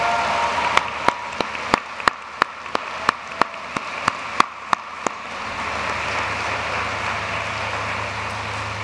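A commencement crowd in Gentile Arena applauds faculty. One nearby person claps in a sharp, evenly spaced rhythm over a softer wash of crowd clapping, and the applause swells into a steady roar.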